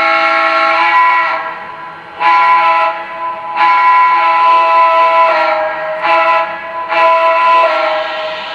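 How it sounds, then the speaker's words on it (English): Whistle on a Lionel Legacy Alton Limited 4-6-2 Pacific model train blows several times: loud, steady blasts separated by short gaps, with no talking. "I'm going to go ahead and blow the whistle a few times."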